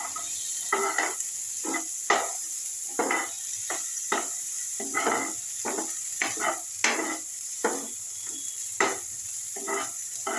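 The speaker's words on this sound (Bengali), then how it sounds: "পেঁয়াজটা একটু রং ধরবে আমি ক্যাপসিকাম টমাটো আর এই সবজিগুলো সব ছেড়ে দেবো" Onion, garlic, capsicum, tomato and other vegetables sizzle in a pan for vegetable soup, with a steady hiss broken by regular rhythmic scrapes of stirring, close and fairly quiet.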